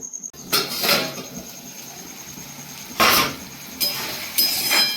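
A metal lid clatters onto a pot of taro set to boil: a few sharp, close clanks spaced apart, with a quiet pause between bursts.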